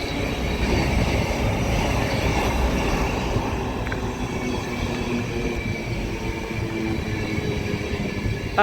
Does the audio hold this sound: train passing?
yes